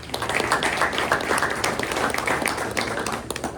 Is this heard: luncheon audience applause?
yes